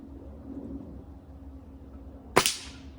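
A quiet background hum, then one sharp crack of a Gamo Magnum .22 break-barrel air rifle shot followed by a brief metallic ring as the pellet strikes a metal target.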